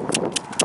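Hooves clip-clop as a horse is ridden outdoors, three crisp close hoof strikes in an even rhythm over a short stretch, with no talking.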